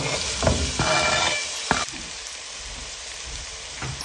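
Onions and guanciale sizzle in olive oil in a pan, a steady close crackle with a few sharp clinks and stirring knocks, no talking.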